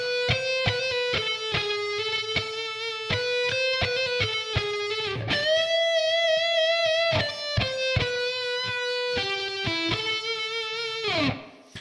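Distorted electric guitar plays a slow melodic lead phrase, with picked notes, a long sustained bend in the middle and a closing slide, loud and alone.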